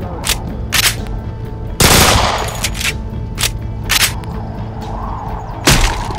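Beretta 93R pistol fire in the video game Left 4 Dead 2, sharp repeated shots in quick bursts with one heavier blast, loud over steady game background noise, no talking.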